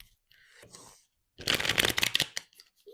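Tarot cards are shuffled by hand in two bursts: a softer riffle first, then a louder, denser flurry of rapid card flicks after a brief pause, close to the ear and without talk.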